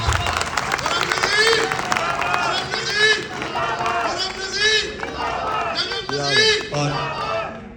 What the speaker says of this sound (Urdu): میں کہتا ہوں ایک زوردار تالی خرم نذیر صاحب کے لیے